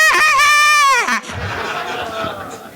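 A voice imitates a rooster crowing with one drawn-out, wavering crow at a comedy festival show, followed by low audience murmur.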